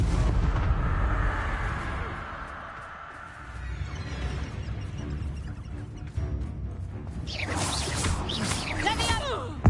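A Confringo blasting spell explodes in the Hogwarts Legacy video game, a loud burst followed by rumbling crashes and crackling debris, with a voice shouting briefly amid the blast.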